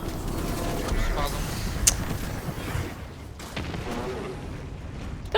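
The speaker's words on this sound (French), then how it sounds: "ma grenade s'est mise dessus" A grenade explosion in the video game Destiny 2: a sharp boom stands out amid clattering, gunfire-like game noise, with voices faintly present underneath.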